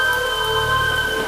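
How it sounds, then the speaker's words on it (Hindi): Heavy rain pours steadily in a storm at a lonely roadside tea stall, a dense, continuous hiss with no voices. "रघुराम ने देखा कि बारिश की बूंदें अब और भी तेज हो गई हैं।"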